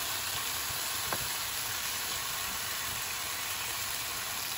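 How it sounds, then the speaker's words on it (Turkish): Chicken bones fry in a pan, giving a soft, steady sizzle with faint crackles, quiet and continuous and with no voices. "Tavukların bir tarafı kızardı. Şimdi diğer tarafını çeviriyorum."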